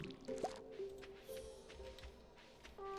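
Stardew Valley watering can pouring over crops in the video game, heard as short splashy, squishy drips over soft, steady game music tones.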